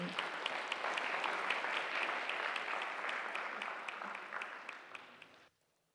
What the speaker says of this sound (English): Let's clap for Sumanasa on violin.